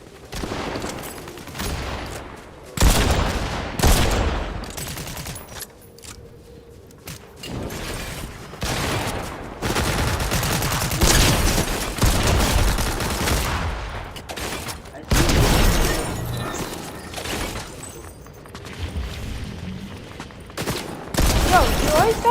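Gunfire in a battle royale video game, with bursts of rapid automatic shots recurring in loud clusters throughout, sometimes overlapping and dense, alongside occasional speech.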